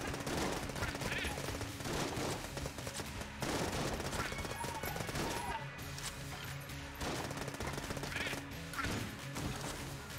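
Rapid gunfire from a weapon in the modded roguelike shooter Enter the Gungeon, a dense run of shots layered over game music and other effects, sustained and loud throughout.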